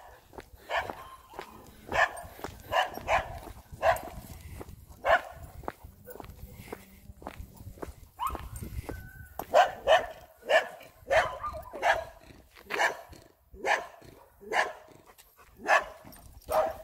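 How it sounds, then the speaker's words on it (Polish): Several German Shepherd dogs bark repeatedly, some loud and close, others farther off, with occasional whimpers and a voice talking faintly in between. "znaleźliśmy przyjaznego owczarka niemieckiego."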